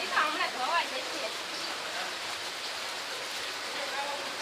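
Steady rain from a monsoon thunderstorm pours down in a continuous broad hiss, with a voice briefly audible at the start.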